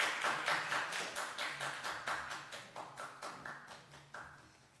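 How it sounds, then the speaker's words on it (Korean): Church audience applauds to welcome two members coming forward for a demonstration, a steady round of clapping that gradually thins and fades out, heard alone with no talk. "나오실 때까지 박수로 맞이해주시기 바랍니다."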